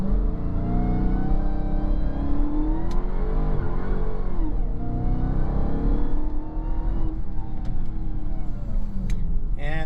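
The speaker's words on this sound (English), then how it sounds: "I'm gonna hit launch. I follow the instructions, launch, press brake quickly, and apply full throttle." A 797 hp Dodge Charger Hellcat launching at full throttle, heard from inside the car as a loud, sustained engine roar with rising and falling pitch sweeps through the gears, with no talking.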